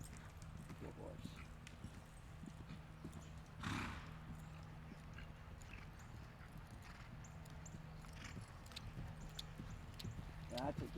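Horse hooves clip-clop faintly through a riding lesson in an arena, soft irregular steps mixed with snorting while an instructor talks throughout.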